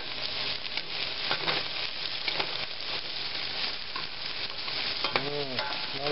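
Onions frying in herb-infused oil with rosemary for a meat pie: a steady, close sizzle with scraping stirring noises throughout and a brief metallic clink near the end.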